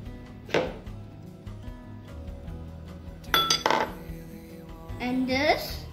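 Bitter gourd (pavakai) being cut in a home kitchen, a few sharp knife knocks and metallic clinks of utensils against a board or pan, spaced irregularly and fairly close, with no talking.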